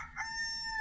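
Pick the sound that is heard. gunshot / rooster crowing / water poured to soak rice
rooster crowing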